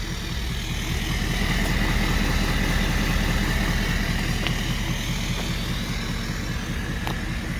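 A 2016 Ford F-250 Super Duty Lariat with a Powerstroke turbo diesel idles close by, a steady deep clattering rumble that holds evenly throughout with no talking.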